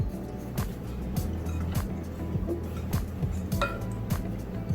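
Quinoa, basil and chopped Kalamata olive stuffing mixed in a bowl, a handful of distinct spoon knocks and clinks spaced through a low background hum, close and fairly quiet.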